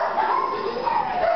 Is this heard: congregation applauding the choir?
no